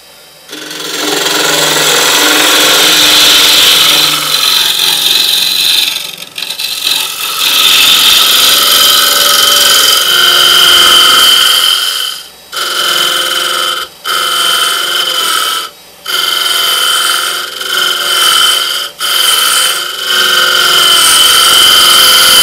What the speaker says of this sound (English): I'll keep ripping out a bit, and then as I'm getting close, I'll get to the scraper